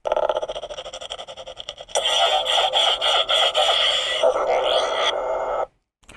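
A Mandalorian-inspired Neopixel lightsaber runs through an ignition effect: a buzzing hum, then a sudden loud, crackling blade roar that holds for several seconds before cutting off abruptly.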